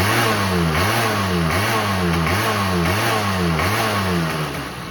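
Honda Spree NC50 scooter engine revving up and down in a steady repeating rhythm of rising and falling pitch, loud and close with no talking.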